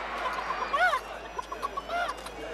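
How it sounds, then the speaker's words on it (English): A cartoon hen clucks in short bursts of several rising, chattering calls with a pause between them, set at an English field before a game, fairly close and clear with no talk over it. "there's the sacred hen"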